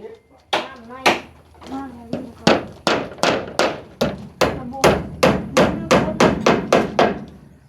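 Hammer blows ring out in quick succession as a house is built, about a dozen sharp, loud strikes falling into a steady beat after a few slower opening hits, with people talking between them.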